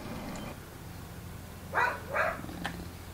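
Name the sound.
dog barking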